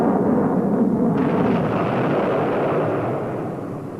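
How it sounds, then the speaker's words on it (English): Stinger shoulder-fired missile firing during a field trial, a loud sustained roar and rumble of launch and blast that holds steady for several seconds before easing slightly, with no voices. "Field trials like this looked impressive as the shoulder-fired missile locked onto its target."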